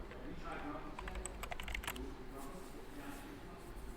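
Quick bursts of clicking keystrokes on a computer keyboard as a sudo apt command for Ubuntu desktop is typed into a Linux terminal, close and crisp, with someone talking over the typing.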